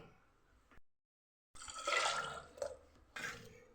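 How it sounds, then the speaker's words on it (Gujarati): Water is poured over lentils in a pot to cover them for boiling dal tadka, a close, sloshing pour in a couple of bursts after a brief silence. "દાળની ઉપર આવે એટલું પાણી આપણે લેવાનું છે"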